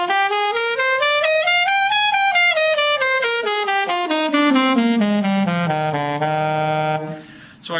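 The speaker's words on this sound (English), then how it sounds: "So I've played every available note in the normal range of the saxophone in that key." A saxophone plays a full-range scale in one key, rising step by step to its top note and then descending all the way down to low B and back, sustained and loud with no talking.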